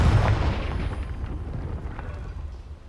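A Confringo fire spell blasts in Hogwarts Legacy with a loud, deep boom at the start, then a rolling rumble that slowly fades over a few seconds, with no voices.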